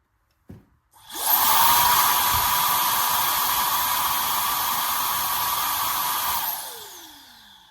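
A brushless cordless air duster with a 100,000 RPM high-speed motor, fitted to a Milwaukee M18 battery, spins up quickly to full throttle and holds a loud, close, high whine for about five seconds before winding down smoothly to silence.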